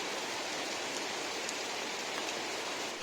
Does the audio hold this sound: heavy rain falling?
yes